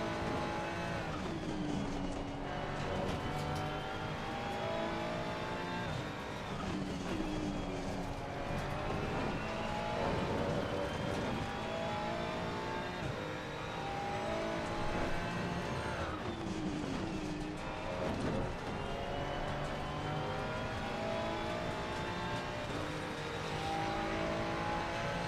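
Race cars lapping Brands Hatch in a sim racing video game, engines droning steadily with rising and falling revs from a car ahead, continuous and fairly loud throughout with no talk.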